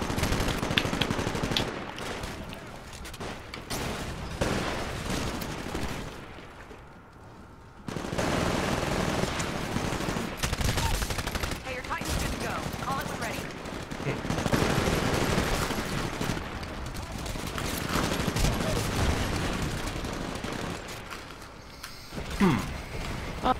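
Automated turrets spraying gunfire during a Titanfall hardpoint match, dense rapid bursts mixed with mechanical clatter and battle noise, loud and continuous with brief lulls.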